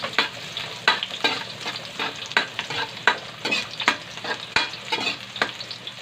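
Garlic sautéing in a pan for chicken tinola, a steady sizzle broken by repeated scraping stir strokes at a brisk, uneven rhythm, close and moderately loud.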